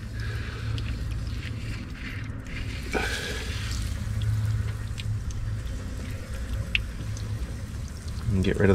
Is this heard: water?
yes